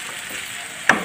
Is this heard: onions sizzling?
yes